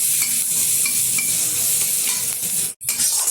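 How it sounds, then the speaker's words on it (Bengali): Chopped onions, green chillies and a little turmeric sizzle in a pan while being stirred, a loud, steady frying hiss with scraping strokes close up and one brief dropout near the end, with no voices. "এবার একটু নেড়ে চেড়ে নেবো।"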